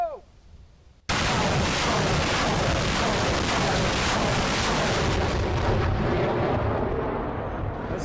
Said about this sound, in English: That's 7 rockets.